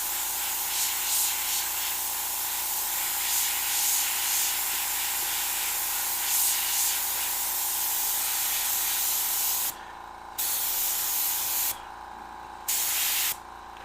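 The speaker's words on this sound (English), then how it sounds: "they're so easy to spray through an airbrush" An airbrush sprays candy paint in a continuous close hiss with brief pauses near the end, no voices over it.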